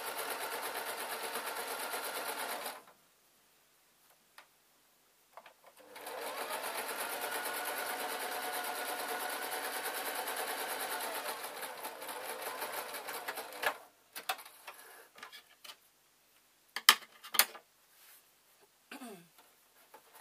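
A sewing machine stitches a small fabric bag in two long steady whirring runs separated by a pause, then falls silent apart from scattered handling clicks and rustles near the end.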